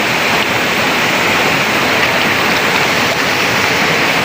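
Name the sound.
mini waterfall, Pupot falls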